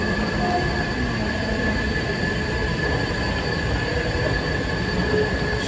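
A Washington DC subway train rumbles steadily through a station, with constant rail noise, wheel hiss and sustained high-pitched squeal tones throughout, loud and close with no voices.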